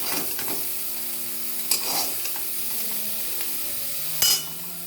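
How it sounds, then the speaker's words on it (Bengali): Broccoli, boiled in salted water, frying in hot oil in a pan. The sizzle is steady and close, broken by a few sharp clinks of a utensil against the pan. "ব্রোকলিটা নুন জলে ভালো করে সেদ্ধ করে নিয়ে আমি এখন ভেজে নিলাম।"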